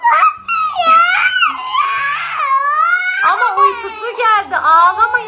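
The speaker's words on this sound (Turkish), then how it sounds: "neden ağlıyorsun?" A young girl cries loudly and close by in wavering, high-pitched sobbing wails that rise and fall across several breaths, with a few faint background voices.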